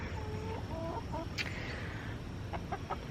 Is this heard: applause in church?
no